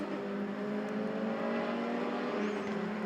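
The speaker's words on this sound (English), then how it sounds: "2-stroke engine that makes all kinds of great sounds around here" A two-stroke prototype race car engine howls at a racetrack, a steady loud buzzing drone with sustained harmonic tones, no voices, only slight shifts in pitch as the car runs.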